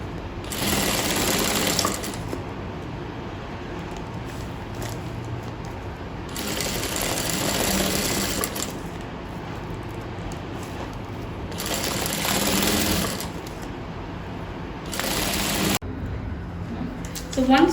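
A sewing machine stitches lace onto a handmade designer sleeve in steady loud runs, pausing between bursts, with a person speaking over the work.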